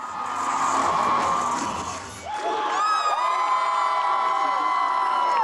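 Crowd cheering and shouting at a cheerleading competition in an arena, loud and continuous, with high whoops and screams rising over the roar of the audience after a brief dip.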